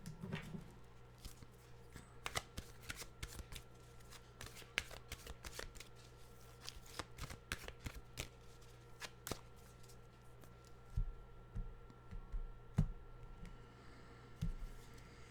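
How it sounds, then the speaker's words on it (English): A deck of animal oracle cards is shuffled by hand, close up. The soft riffling and flicking come in quick repeated bursts with no other sound. "And we'll get our animal cards here."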